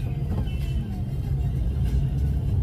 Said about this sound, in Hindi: देखो, ट्रैफिक ही ट्रैफिक, जिधर देखो ट्रैफिक ट्रैफिक